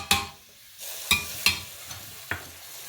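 Duck masala with garam masala and turmeric gets stirred in a pressure cooker: a few sharp scraping clacks of a spoon against the pot, spaced apart, with a faint sizzle between them.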